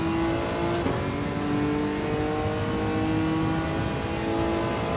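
Gran Turismo 7 race cars rev hard and spin their rear tyres, producing a continuous loud engine roar with wavering pitch and a dense grinding wash, near and unbroken with no voices.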